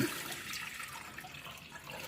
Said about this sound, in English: The first thing we're going to do is add our 4 cups of water to the pot.